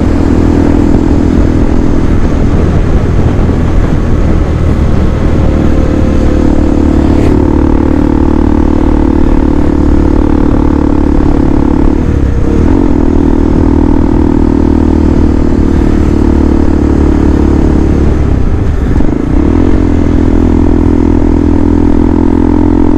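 A KTM 390 Adventure motorcycle runs steadily while being ridden, its engine droning loud and continuous with a few brief dips in pitch as the rider shifts or eases off.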